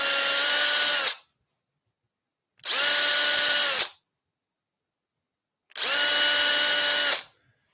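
A power drill whirs three times in short, even bursts of about a second each, separated by silence, loud and close.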